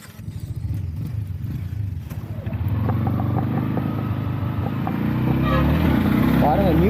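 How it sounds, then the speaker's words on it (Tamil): Yamaha MT-15 motorcycle engine on a test drive, a steady mid-loud engine drone that builds in level over several seconds, with a voice talking over it throughout. "எம்டி நியூ பைக் வந்து டெஸ்ட் ட்ரைவ் பண்ணி பார்க்க போகிறோம்."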